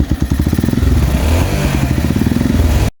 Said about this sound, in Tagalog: So the more na pinipisit natin siya or tinitwist patalikod is the more din na lumalakas yung makina or yung RPM ng makina.